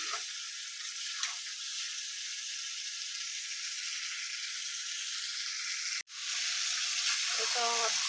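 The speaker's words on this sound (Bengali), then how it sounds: "একটু পরপরে নেড়ে নেড়ে এইভাবে কষাই নিয়ে" Garlic and ginger paste is stir-fried in a wok, a steady close hiss of sizzling oil that holds evenly, briefly cuts out once, then resumes with a few soft stirring scrapes.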